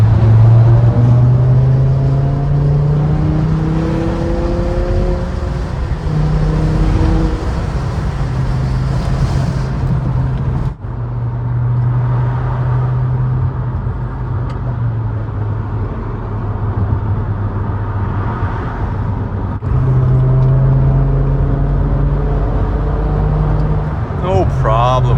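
A BMW M5 E60 driven through city traffic, its engine rising loudly in pitch through gears in repeated climbing sweeps with brief shift drops, heard from inside the car, steady and close.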